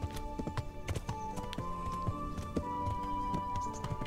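Horses at a horse farm in the video game Kingdom Come: Deliverance, hooves clip-clopping in an uneven rhythm of many sharp taps, with a steady tone droning underneath.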